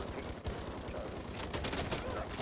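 A light machine gun in the mobile shooter Battlefield Mobile rattles off dense continuous bursts of rapid shots, loud and close, with the game's noise filling the background.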